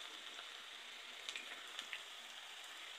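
Onions and green chilies frying in a pan, a quiet, steady sizzle with a few soft pops and crackles scattered through it and no voices.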